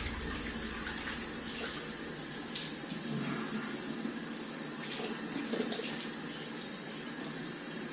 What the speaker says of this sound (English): Let me wash the face down.